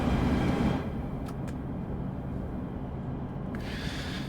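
An ALP-45DP train in Train Sim World 6 enters the East River Tunnel: a steady low rumble of rolling wheels and motors, with the open-air sound dulling as the train passes inside.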